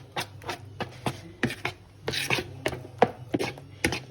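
A knife chops through roughly diced brown onions on a board, giving a steady run of sharp, close thuds about twice a second, with no talk over them.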